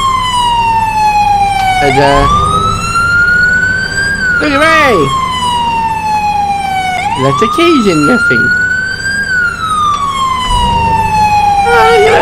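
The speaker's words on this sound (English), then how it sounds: "There's no need for them sirens, okay." Loud wailing emergency vehicle siren in the Farming Simulator video game, rising and falling in long sweeping cycles throughout, with someone talking over it.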